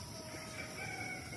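A flock of 24 chickens being fed grains clucks and calls continuously nearby, with a crowing note rising over the steady farmyard chatter, and no voices.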